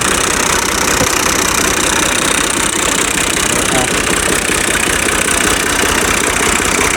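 Tractor engine running in a field during berseem fodder preparation, a loud steady close-up rumble with a knocking, vibrating texture that holds throughout.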